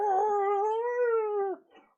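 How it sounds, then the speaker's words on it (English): A kaiju roar from a Gamera film: a single drawn-out, wavering, harmonic wail, somewhat like a scream, holding steady for about a second and a half before breaking off into a short trailing tail. "Gamera's roar is kind of fun. It sounds like people screaming."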